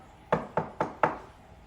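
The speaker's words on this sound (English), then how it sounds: "Then there was a knock on the door." Four sharp knocks on a door, evenly spaced and close by, standing out clearly against a quiet background with no talking.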